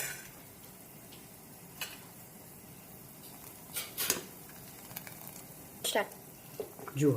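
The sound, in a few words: manchow soup boiling in a pot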